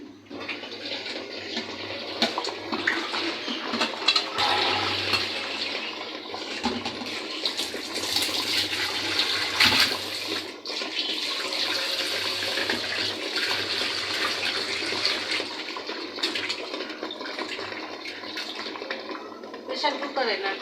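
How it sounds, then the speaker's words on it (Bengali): Tap water runs steadily over raw meat and potatoes being rinsed in a home kitchen, a continuous close splashing hiss that lasts throughout with small shifts as the pieces are moved. "মাংসগুলো ধুইয়ে নিই ভালো করে"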